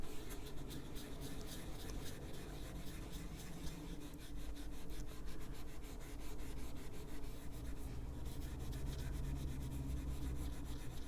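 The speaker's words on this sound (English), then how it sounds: "I'm going to just use my finger here and rub all that in" A fingertip rubs colored pencil into paper on a grayscale Santa Christmas coloring page, a soft, steady, close scratchy friction that continues throughout with no talk.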